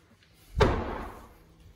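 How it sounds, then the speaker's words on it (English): A single loud door slam booms inside student halls at Edge Hill University's Woodland Court, a sharp close thud that trails off into a short room echo in otherwise quiet surroundings. "Doors are loud."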